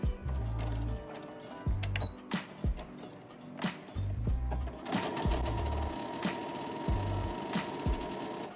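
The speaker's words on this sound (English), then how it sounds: "straight stitch down the very center of your casing, making sure to backstitch a couple times on either end." A sewing machine runs a straight stitch down the center of a fabric casing, backstitching at the ends: close, steady bursts of rapid stitching separated by short pauses.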